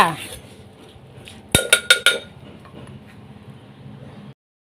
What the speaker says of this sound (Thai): ตามด้วยหอมแดงนะคะ ใส่ลงไปเลยค่ะ โขลกจ้า ค่ะโขลกแค่พอหยาบๆก็พอจ้า